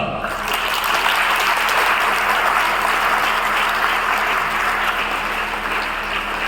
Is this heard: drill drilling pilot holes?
no